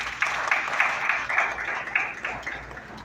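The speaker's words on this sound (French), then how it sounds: "Encore une fois, sous vos applaudissements." A small audience claps at a youth government investiture ceremony in Haiti. The applause is moderate and uneven, with individual claps audible in loose rhythm, and it carries steadily through the moment.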